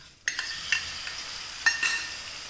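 Chopped medium tomato is stirred into frying spices for a bamboo shoot dish, with a sudden hiss as it lands, then soft sizzling and several spoon scrapes against the pan, close by and with no talking.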